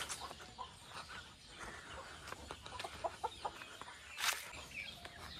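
Several chickens cluck softly at a distance, with a few sharper calls rising briefly over quiet outdoor background noise.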